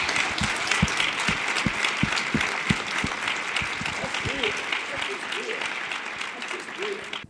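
A conference audience gives a dense, steady round of applause, many hands clapping at once with a few sharper claps close by, tapering slowly toward the end, with faint voices underneath.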